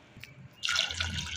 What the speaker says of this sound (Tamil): நம்மளுக்கு தேவையான அளவு தண்ணி ஊற்றிக்கலாம்.